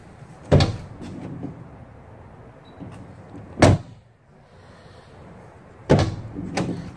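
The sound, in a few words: Mercedes Sprinter van doors opening and closing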